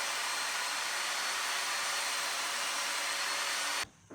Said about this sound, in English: Here I am sanding.